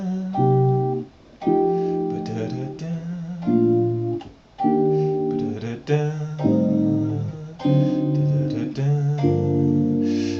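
A section of a jazz standard played as sustained chords, likely on piano, moving in cycle motion, with a voice scatting the melody over them in short phrases, close and fairly loud.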